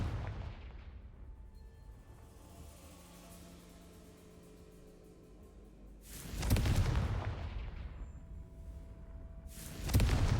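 Two loud, broad blasts burst out about four seconds apart, each with a sharp onset and a rumbling tail, over a low ambient drone: the Confringo fire spell in the Hogwarts Legacy video game.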